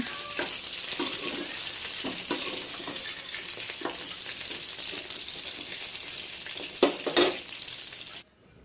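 Food frying in oil in a pan, a bright, steady sizzle with scattered crackles and a few louder stirring clatters near the end before it cuts off, no talk.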